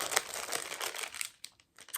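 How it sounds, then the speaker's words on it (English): Plastic bag holding a stitching advent calendar rustles and crinkles up close in a quick series of crisp, papery bursts before trailing off into brief quiet. "I dug it out because sometimes you don't like to hear too much of the rustling"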